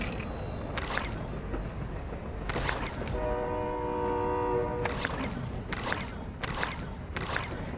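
Train in the video game DMZ, a rumbling rail roll with a sustained horn blast midway and sharp clacking bursts, close and loud.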